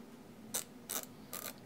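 A threaded cap being screwed down tight onto the fore end of a Beretta A400 Xcel shotgun gives three short, close mechanical ratcheting clicks, evenly spaced, with quiet gaps between them.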